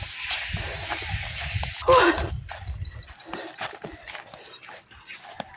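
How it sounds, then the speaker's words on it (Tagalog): Dogs bark near a family home after wood has been hauled in from the forest. A few sharp, fairly close barks and yelps burst out over quieter background noise, with no talking. "Tahol-tahol na naman kayo dyan, ha?"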